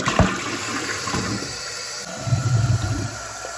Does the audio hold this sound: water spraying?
yes